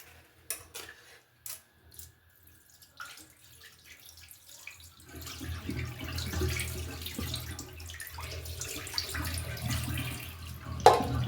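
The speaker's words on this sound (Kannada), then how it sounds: "ಸಿರಿಧಾನ್ಯನ ತುಂಬ ಚೆನ್ನಾಗಿ ತೊಳಿಬೇಕು ನೋಡಿ. ಈ ಥರ ತೊಳ್ಕೊಬೇಕು ಚೆನ್ನಾಗಿ." Millet grains are rinsed by hand in water, with sloshing and swirling that starts faint and sparse, then grows into steady, close splashing and rubbing, plus the odd clink of a vessel, and no talking.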